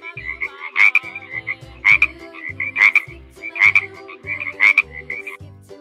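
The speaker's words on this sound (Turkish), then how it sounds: "Su kurbağası. Sulak alanlarda yaşarlar." A water frog croaks in repeated bursts, about five loud rattling calls at a steady rhythm, close and clear with no talking.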